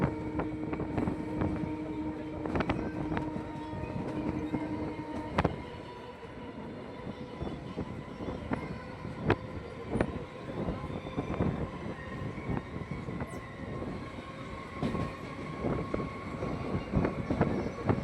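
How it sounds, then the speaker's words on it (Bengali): A suburban circular-railway train rolling into Brace Bridge station, a low rumble with rhythmic clacks of wheels over rail joints and a sustained tonal hum, moderately loud and steady. "আর বন্ধুরা আমাদের ট্রেন এসে পৌঁছালো বেস ব্রিজ স্টেশন।"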